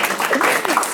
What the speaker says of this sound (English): An applause for Bruce.